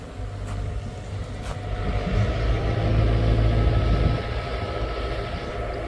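A vehicle engine runs at a steady mid-pitched idle, then swells in a gradual, moderately loud rise before easing back, with a couple of faint clicks early on and no speech.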